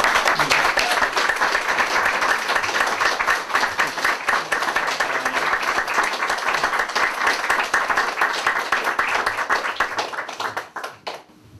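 A poetry reading audience in Milwaukie claps to welcome poet Noel Hanlon, giving dense, sustained applause that carries on for about ten seconds before thinning out to a few last claps.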